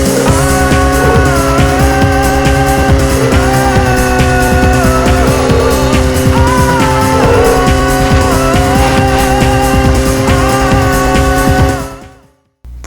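Race cars roar around a NASCAR-style track in the PS1 game All Star Racing, loud constant engine whine with rising and falling pitch shifts, tire squeals, and a sudden cut to silence near the end.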